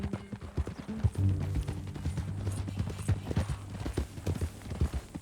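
Horse hooves clip-clopping steadily at a walk in the Western video game Red Dead Redemption 2, close and rhythmic, with a low held tone and a brief whinny-like sound in the background.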